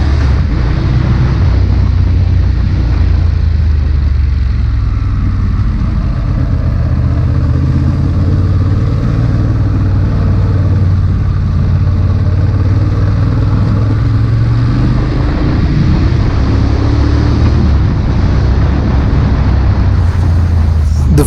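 A Ducati Monster 821 is ridden through city traffic in the rain, its loud, steady low engine rumble mixed with constant wind and road noise from start to finish.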